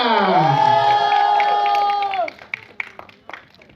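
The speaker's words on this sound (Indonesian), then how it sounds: "Dan juga tepuk tangan untuk Devano Danendra." A crowd claps and cheers for Devano Danendra at an Indonesian film-cast event; after a host's sustained, drawn-out voice, scattered applause and short shouts break out, close and moderately loud.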